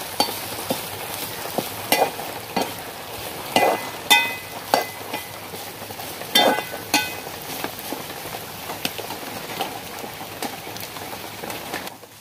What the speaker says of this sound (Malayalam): നല്ലോണം വറുത്തെടുക്കണം.